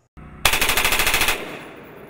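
An M4 carbine fires a ten-round burst on full auto, rapid evenly spaced loud shots that stop abruptly and leave a decaying echo. No speech is present.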